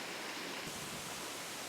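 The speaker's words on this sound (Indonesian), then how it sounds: "Ini dia, air terjun Sipitu-Pitu." Sipitu-Pitu waterfall in a lush Sumatran forest roars as a steady, dense wash of falling water, close and constant with no other sounds or talk.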